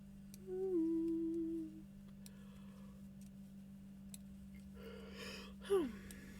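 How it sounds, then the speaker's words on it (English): A person gives a single drawn-out voiced yawn lasting about a second, fairly close and quiet, over a steady low hum, with a brief vocal sound near the end. "I apologize for the yawn."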